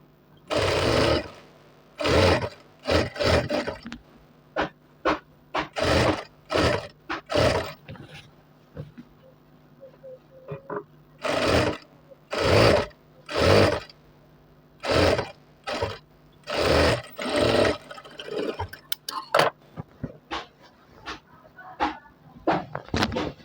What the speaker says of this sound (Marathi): त्यानंतर शिलाई सुरू करून द्यायची.